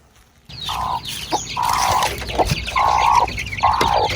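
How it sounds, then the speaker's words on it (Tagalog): Native chicks and chickens cluck in their coop, repeated loud bursts of clucking calls following one another with short gaps, close by and without talk. "Dito naman yung ating sisiw at tambayan ng mga native."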